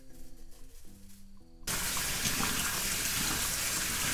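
Fresh clover buds rinsed under a running kitchen tap: after a brief quiet stretch with faint tones, water suddenly gushes in a steady, loud, close rush until the end.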